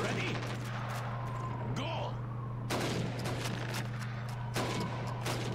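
Rifle shots aimed at helmets on a timed shooting drill in Call of Duty 2's Soviet training mission, a few sharp reports spaced across seconds over a steady hum, with a voice shouting a command.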